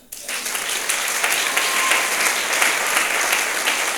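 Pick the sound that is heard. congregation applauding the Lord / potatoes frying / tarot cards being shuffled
congregation applauding the Lord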